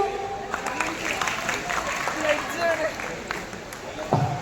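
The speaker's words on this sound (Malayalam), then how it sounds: "എല്ലാരും കൈയടിച്ചേ" A group of people clap together at a lively family gathering, the claps blending into a busy crowd with chatter and voices throughout.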